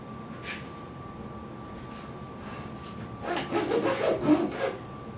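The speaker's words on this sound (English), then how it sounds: "some of these little razor saws will cut in the push stroke, some will cut on the pull stroke. I like to do this on the pull stroke" Razor saw cutting wood on the pull stroke while a guitar kit's back is attached, a few faint strokes early, then a short run of close rasping strokes near the end.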